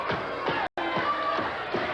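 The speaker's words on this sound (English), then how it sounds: "Misty Blue getting this crowd going." A women's wrestling crowd cheers and claps in an arena, a steady wash of voices with rhythmic clapping bursts, fairly loud, with one brief dropout midway.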